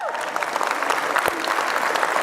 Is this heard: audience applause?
yes